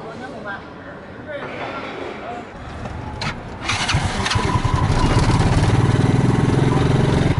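A motorbike engine sputters to life partway through, then settles into a loud, steady rumbling idle over background chatter and street noise near Beihai Park in Beijing.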